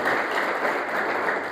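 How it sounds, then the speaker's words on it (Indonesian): A church congregation applauding during a sermon, a brief, even burst of many hands clapping together at moderate loudness, with no talk over it. "Tepuk tangan yang terbaik buat Tuhan Yesus."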